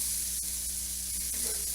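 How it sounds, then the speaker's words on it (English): Spices toast in hot oil with onions and carrots in a crockpot, making a close, steady hiss with a few faint crackles and pops. "spices are oil soluble, which means they need to be toasted in some oil"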